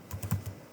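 Several soft, quick keystrokes tap on a computer keyboard, close and quiet, in a short uneven burst with no talking.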